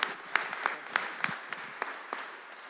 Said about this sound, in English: this is applause